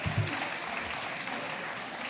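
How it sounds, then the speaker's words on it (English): A summit audience in the Maine Room applauds at an opioid response event, a diffuse, even roar of clapping from a sizable crowd heard at a distance. "It's okay to applaud."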